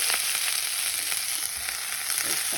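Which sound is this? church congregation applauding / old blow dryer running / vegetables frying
vegetables frying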